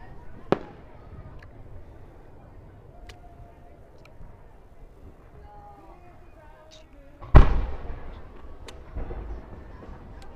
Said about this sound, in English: I think I'll share the fireworks with Periscope tonight.